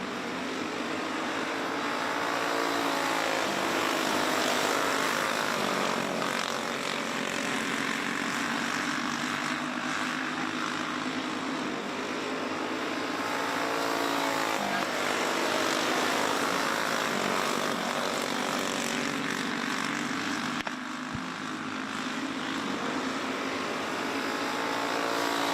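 Go-karts racing at Forks Karting Speedway, several small engines buzzing and droning continuously as the pack laps the track, loud and sustained with rising and falling pitch as karts pass.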